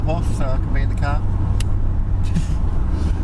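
A small open-top Daihatsu car drives along, its engine and road rumble steady and close throughout, with a passenger talking over the low drone.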